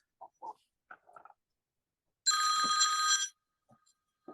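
A mobile phone ringtone rings once for about a second, loud and bright and close by, with short bursts of quiet speech before and after it.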